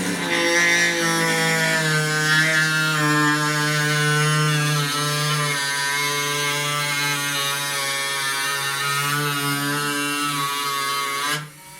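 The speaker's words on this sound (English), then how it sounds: "I'm using the Dremel to trim and cut the bulkhead" A Dremel rotary tool trims an aircraft fuselage bulkhead for a RANS S21 Outbound kit plane, its high, steady motor whine buzzing close and loud, pitch dipping slightly under load, then cutting off at the end.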